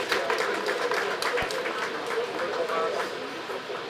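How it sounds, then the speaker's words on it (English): Crowd applause at a Ghana Navy anniversary celebration at sea harbor, a steady dense wash of clapping held at an even level throughout, with a faint murmur of voices mixed in. "you deserve a big round of applause"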